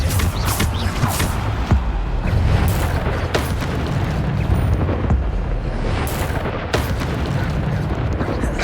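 A Bombarda spell explosion in the video game Hogwarts Legacy, a loud sustained booming blast mixed with rumbling debris, creaks and mechanical clatter, with sharp impacts scattered through it.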